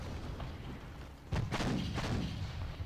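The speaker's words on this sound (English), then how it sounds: "we've got 2 guns now, like 2 batteries they can fire" Two artillery batteries fire in a Battle of Mons strategy video game, giving heavy booming thumps over a steady background rumble, with louder shots clustered near the end.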